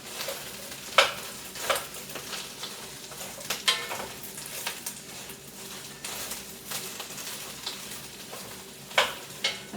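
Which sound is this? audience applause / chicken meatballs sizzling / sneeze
chicken meatballs sizzling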